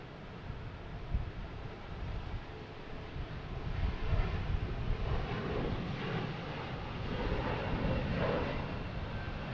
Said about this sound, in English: You have American Airlines taking off at E175, heading to LaGuardia.